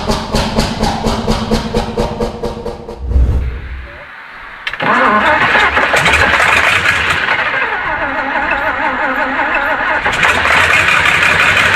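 A Tatra T930 engine cranks with rapid rhythmic starter pulses, briefly falters, then catches and settles into a loud, rough, continuous running roar close by.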